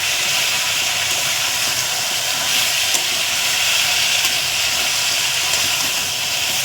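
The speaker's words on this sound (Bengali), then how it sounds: "এটা ভালো করে কষাবো" Fish curry sautéing in a pan with turmeric, salt and cumin powder gives off a steady, close sizzling hiss with no pauses and no talking.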